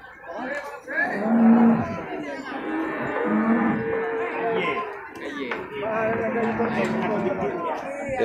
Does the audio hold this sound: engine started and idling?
no